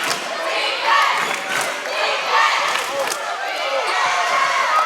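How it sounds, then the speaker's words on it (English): Crowd at a girls' high school basketball game stomping the bleachers for the defense, rhythmic heavy thuds and rumbling under excited crowd noise and voices, sustained and fairly loud. "the crowd stomps the bleachers for the defense"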